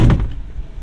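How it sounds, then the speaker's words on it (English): A single solid thunk as a Mercedes G-Wagon door swings shut, heavy and close, with a brief muffled low-end decay afterward. "you know they're popular for the door closing sound and how robust it is"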